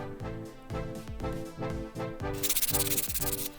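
Corners of a wooden fishing toy reel base being sanded round by hand, a close, steady rhythmic rasping in repeated strokes about twice a second, growing brighter and hissier toward the end.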